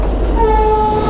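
Malda Express passenger train rolling past close by, a loud steady rumble of wheels and carriages with a sustained horn tone running through most of the moment, no voices.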